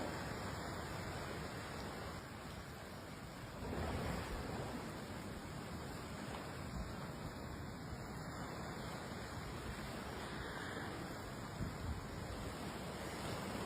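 Rushing flood water sweeps cars along in a flooded area, a steady broad roar of churning water and wind noise that fills the whole stretch without pause.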